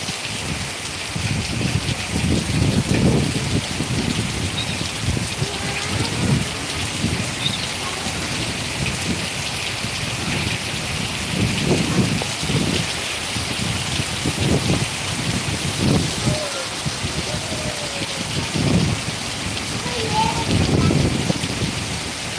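Heavy rain pours steadily and loudly in Vallioor, Tamil Nadu, during a thunderstorm, a dense continuous hiss with occasional low rumbles swelling beneath it.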